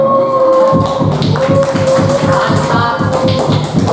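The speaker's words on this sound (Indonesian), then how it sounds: "Sekarang beri tepuk tangan untuk kelompok ulang." A classroom of students claps for a presenting group, a close, rhythmic burst of hand claps with some shuffling and a light tone in the background, without voices.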